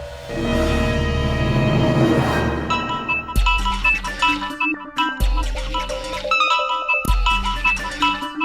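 A phone ringtone for an incoming call rings out loud and melodic, as repeated chiming tones in short bursts with gaps between them. A long sustained chord comes before the rings.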